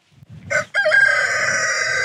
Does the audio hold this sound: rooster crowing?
yes